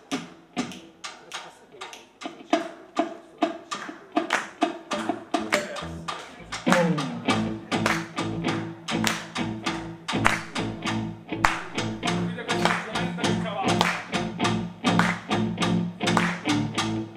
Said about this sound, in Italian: provate a seguirci, magari a battere le mani con noi